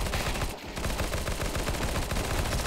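Rapid, loud gunfire from a shooter video game bursts repeatedly and almost without pause, dense and close, with a short gap near the start.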